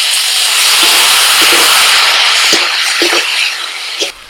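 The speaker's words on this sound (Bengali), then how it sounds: "দিচ্ছি 1 চামচ জিরের গুঁড়ো, 1 চামচ লঙ্কার গুঁড়ো, ধনে গুঁড়ো 1 চামচ, সামান্য একটু জল দিচ্ছি" Water poured onto a sizzling paste of ginger-garlic, ground cumin, chili and coriander sets off a loud, steady steam hiss and spluttering sizzle that holds for several seconds, then begins to ease.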